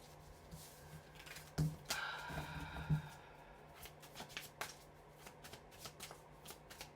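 A deck of oracle cards is shuffled close by in a quiet room, with soft riffling bursts and scattered taps and flicks of the cards over several seconds.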